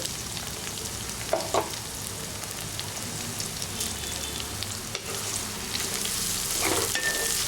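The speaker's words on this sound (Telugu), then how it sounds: "ఈ ఉల్లిపాయ ముక్కల్ని ఒక రెండు మూడు నిమిషాల పాటు ఈ విధంగా మగ్గిస్తే అవి కాస్త కలర్ చేంజ్ అయ్యేటంత వరకు వీటిని వేపుకోవాలి ఇలా" Thinly sliced onions frying in a pan after mustard and cumin seeds, giving a loud, steady close sizzle with a few faint stirring clicks, no talk.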